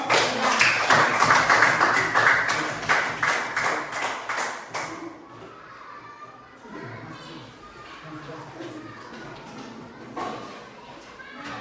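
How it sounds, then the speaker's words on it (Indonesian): Classroom students clap for a group in a lesson on computational thinking, a rhythmic round of hand claps lasting about five seconds, then fading into quieter room chatter and children's voices. "Kita berikan tepuk tangan untuk kelompok"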